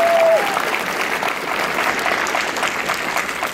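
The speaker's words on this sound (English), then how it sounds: "Applause for my son." A theater audience at a Lazer Team film screening Q&A in Cincinnati breaks into sustained applause, steady dense clapping after a brief tonal blip at the start.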